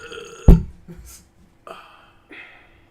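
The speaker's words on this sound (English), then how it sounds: "I belched." A single loud, juicy human belch bursts out near the start, followed by a few quieter vocal sounds and brief noises in a casual studio setting.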